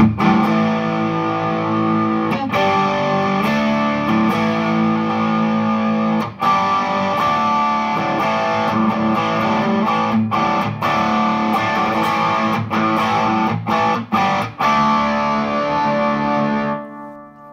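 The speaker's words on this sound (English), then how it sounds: "Then it also has the tube drive channel." A Tubeworks TD-752 tube drive channel gives an electric guitar gritty distorted chords and notes with a warm saturated tone, sustained and ringing for several seconds.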